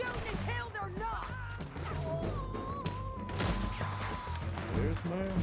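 Video game gunfire: a rapid burst of shots and impacts crackling over several seconds, mixed with shouting voices and loud thuds.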